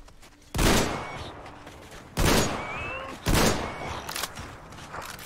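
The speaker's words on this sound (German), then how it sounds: "ich habe den jetzt eine Schrotladung im Kopf gejagt" Three loud, close shotgun blasts in Metro Exodus, spaced about a second or more apart, each with a sharp crack and short ringing decay.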